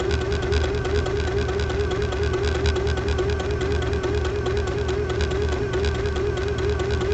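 Sewing machine running steadily while stitching a quarter-inch seam in fabric, a continuous mechanical hum with a fine rapid rattle, moderately close, with no talking.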